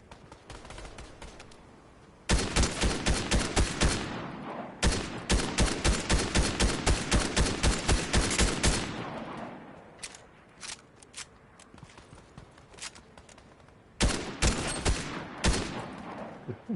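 Bursts of rapid automatic gunfire crack out in a Fortnite match. Two long volleys come at a mid distance, followed by scattered single shots and a final short burst, with quiet gaps between them.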